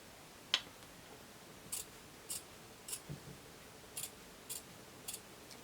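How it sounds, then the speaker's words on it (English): Scissors trim the seam allowance of a fabric French seam, giving about eight crisp, quiet snips in a steady, unhurried rhythm, close up and with no talking. "I'm trimming about 1/16 of an inch off of either side."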